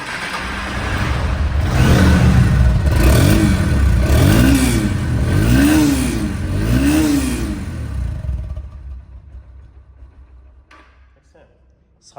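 The engine of a Honda X-Blade ABS motorcycle in original, showroom condition with 596 km runs close by, revving up and down in several waves before fading away toward the end.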